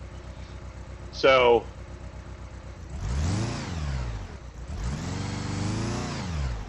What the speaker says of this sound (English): Sounds like a misfire.